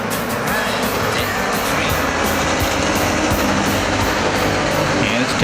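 Street stock race cars roar around the Perris Auto Speedway oval in a main event, a dense continuous engine din with a faint announcer's voice beneath it.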